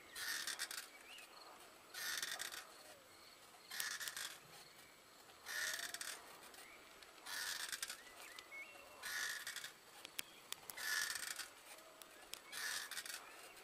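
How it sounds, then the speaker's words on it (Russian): Crows caw in repeated harsh bursts about every second or two, with other birds singing in the background of a fresh forest beside a country road, recorded while cycling near Našice. "Птицы пеют,"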